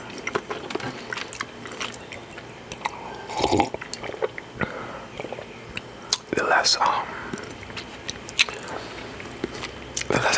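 Chewing breakfast food in a close-miked mukbang ASMR setting: soft wet squishes and crunchy bites come in irregular bursts, with quiet talking in between.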